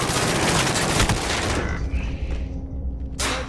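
Rapid automatic gunfire in Call of Duty Warzone, a dense close burst of shots lasting a couple of seconds before tapering off, followed by a short final burst.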